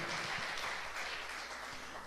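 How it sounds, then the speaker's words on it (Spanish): A church congregation applauds together, a dense steady patter of many hands clapping that fills the room, moderately loud and slightly fading at the end. "Den un aplauso al Señor."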